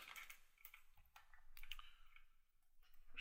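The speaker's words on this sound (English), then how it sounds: "typing random things" Keystrokes on a computer keyboard sound in quick irregular bursts, close and fairly quiet, with short pauses between runs of clicking and no talk.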